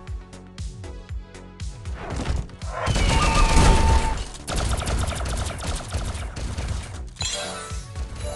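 Gunfire in the video game Thetan Arena comes in rapid bursts of loud synthetic shots mixed with crashes and impact effects, with a dense volley in the middle.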